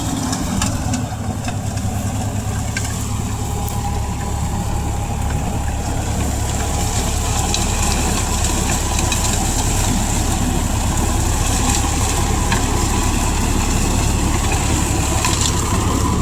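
Swaraj 963 FE tractor engine running at about 1700 rpm while driving a mulcher through dry sugarcane leaf, a loud, continuous, steady drone with a deep hum and no voices over it.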